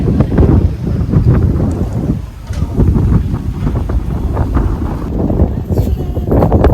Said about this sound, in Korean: 바람